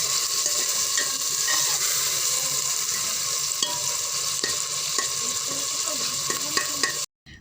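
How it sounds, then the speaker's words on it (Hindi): Masala of tomato, ginger and green chili paste fries in a handi pot, with a loud, continuous sizzle broken by scraping stirs before stopping abruptly. "मसाले को तब तक अच्छी तरह से भूनें जब तक कि इसमें से खुशबू ना आने लग जाए।"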